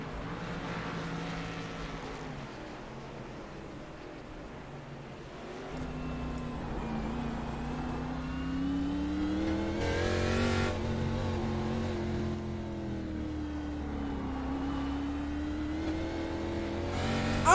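Race car engine in a racing video game, heard during a lap: a continuous, moderately loud engine drone that shifts pitch as it revs up and down through gear changes, with a brief louder surge midway.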